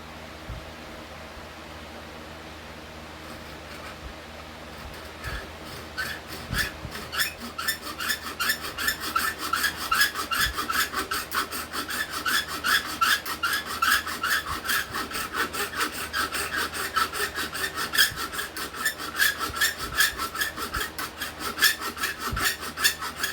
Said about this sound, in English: we'll use the saw to rasp this out